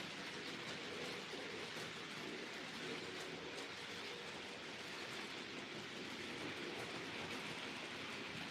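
A model Class 37 locomotive runs on a layout, giving a steady, faint, hissing rumble with light rail clatter throughout and no voices.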